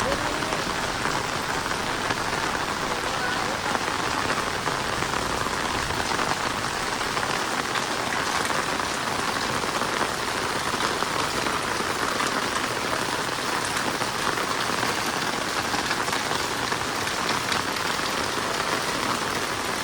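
Torrential rain pouring down in Ambaji, a thick, constant hiss and patter of drops hitting nearby surfaces, loud and even throughout the entire stretch.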